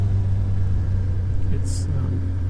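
Suzuki Hayabusa motorcycle engine revved hard with a whacked throttle, a loud steady low rumble filling the whole moment with a brief high whine partway through; speech-like sounds may be mixed in.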